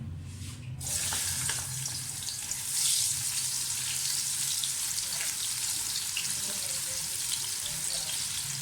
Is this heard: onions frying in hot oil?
yes